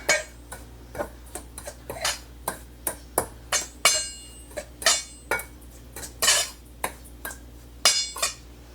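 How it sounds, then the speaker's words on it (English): A spoon or utensil clinks and scrapes repeatedly against a pot while strawberry jam mixture is stirred, giving a steady run of sharp metallic taps and rattles, close and fairly loud, with no talking. "Stir that together."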